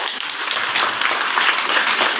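An audience at a National Energy Conservation Day event breaks into applause, a loud, dense and continuous clatter of many hands that holds steady throughout.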